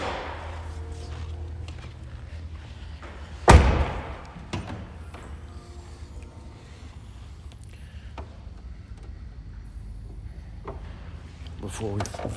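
A single dull thump as the hood of a 2010 turbocharged Chevrolet Corvette is raised, fairly close and brief, with someone talking around it and quiet rustling afterward.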